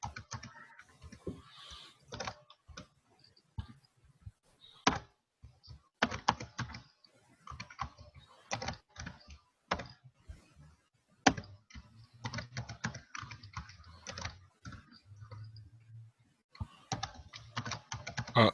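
Computer keyboard typing in irregular bursts of sharp key clicks, with brief pauses between runs, while code is entered for a custom GUI control; close and moderately loud.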